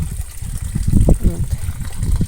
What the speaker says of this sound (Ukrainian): І сюди заливаю водичку.